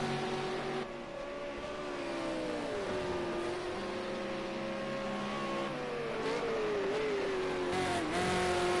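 Race cars circling the Bathurst track in the Project Cars 2 video game, a steady droning engine whine with shifting pitch and gear changes, fairly faint and continuous with no talk over it.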